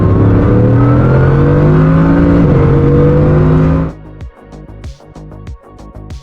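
A quad-turbo W16 hypercar of about 1,600 horsepower roars loudly under hard acceleration for roughly four seconds, its pitch climbing slightly. The roar then cuts away to quieter, scattered mechanical clicks and ticks.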